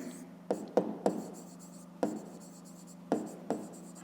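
Pen strokes tap and scratch on paper in short, uneven bursts, about seven distinct marks close up, as numbers are written down during a fifth-grade maths exercise, with steady low background hum between strokes.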